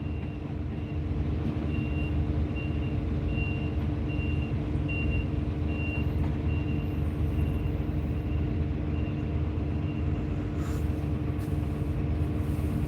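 Reversing alarm from a truck pulling a very large trailer at a work site, beeping steadily in a regular rhythm over a loud, constant diesel engine rumble, with no talk.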